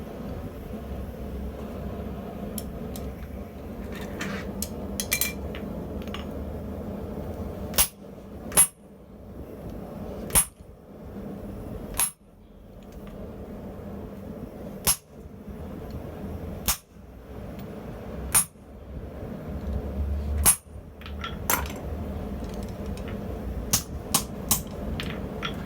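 A blacksmith strikes a steel collar to widen it, landing about a dozen sharp, ringing hammer blows at uneven intervals over a low background hum.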